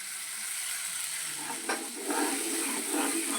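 Ginger, chilli and tomato paste with spices frying in a hot pan for a vegetarian soybean dish gives a steady close sizzle, with stirring scrapes adding brief swells toward the end, no voices.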